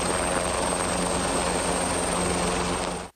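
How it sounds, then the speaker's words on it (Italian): A Vigili del Fuoco Drago 139 rescue helicopter flies close overhead, its dense, steady rotor and turbine roar filling the whole stretch loudly and without pause before a brief cut near the end. "Immediato l'arrivo dell'elicottero dei Vigili del Fuoco Drago 139"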